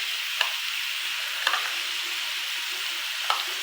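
Minced meat keema frying in oil in a pan on a tawa, a steady bright sizzle close up with a few faint clinks of a spatula, no voices.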